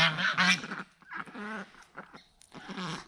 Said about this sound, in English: So there's 2 geese, 2 ducks, and 5 chickens.